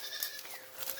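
Goats being herded in the Philippines bleat in a few short, wavering calls at moderate distance over a quiet outdoor background, with no talk.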